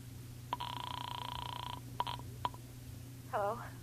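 A telephone is dialed in a radio drama sound effect: a long tone, then several short sharp clicks and beeps, followed by a brief warbling burst, all fairly quiet over a low hum.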